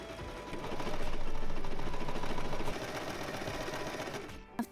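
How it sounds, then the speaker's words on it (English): A sewing machine runs steadily while stitching the two skirt ruffles of an autumn dress, a close, continuous mechanical whir that eases slightly partway through and ends with a few short clicks. "I'm going to sew first the 2 ruffles that make the skirt, and then the bodice to the top ruffle"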